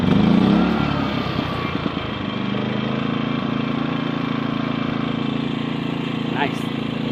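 A GENKINS inverter generator starts on a single pull and settles into a steady, loud, even running drone that continues without a break.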